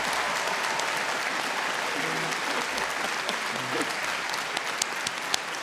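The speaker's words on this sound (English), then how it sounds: "I think he deserves a round of applause." Audience at a university business school graduation hooding ceremony gives a sustained round of applause, a dense, even roar of clapping with some voices mixed in.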